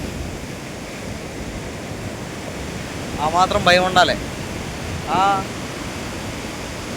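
Sea waves wash steadily onto the shore in a continuous broad hiss, with a voice speaking briefly in the middle and again near the end.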